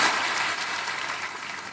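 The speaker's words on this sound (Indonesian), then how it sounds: "Tepuk tangan lebih keras lagi." Church congregation claps during a Sunday sermon, a dense steady applause heard from a distance that eases slightly toward the end, with no voices.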